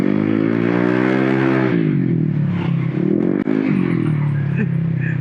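A Honda ADV 160 scooter, just fitted with a new torque drive bearing, revs up close by with a rising engine whine that drops and settles into a steadier drone, punctuated by a brief clatter.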